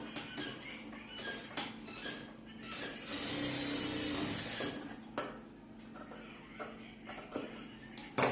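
A sewing machine stitches a churidar top, with a short continuous whirring run in the middle amid scattered light clicks and handling taps nearby.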